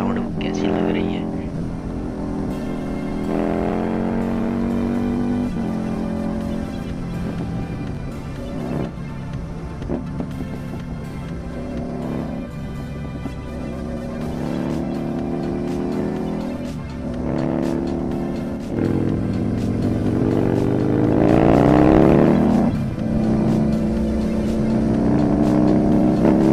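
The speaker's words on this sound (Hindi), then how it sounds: "इस इंजन और साउंड के बारे में ज़रूर बताना कि बाइक की जो साउंड है वो कैसी लग रही है" A Husqvarna Nuda 900R motorcycle being ridden gives a continuous loud engine drone that rises and falls with throttle changes and wind rush, with no pauses.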